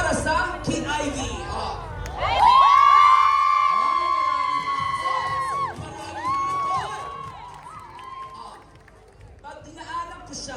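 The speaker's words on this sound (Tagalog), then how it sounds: "I want to hear you cheer. Sumigaw kayo para sa King Ivy." At the Philippine Festival Tokyo in Yoyogi Park, an outdoor festival crowd breaks into loud cheering and shrieking whoops for King Ivy, swelling sharply, then fading into scattered shouts and chatter.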